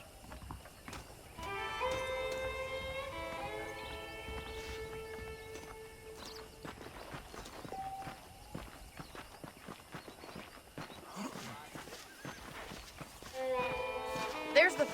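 A horse in the Red Dead Redemption video game walks with soft, rhythmic hoof clip-clops under character dialogue and tonal game music.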